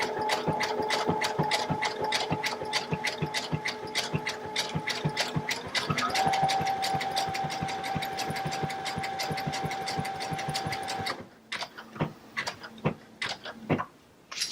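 A Baby Lock sewing machine runs steadily, its needle stitching in a fast, even rhythm with a motor whine for about eleven seconds, then stops, leaving a few faint clicks.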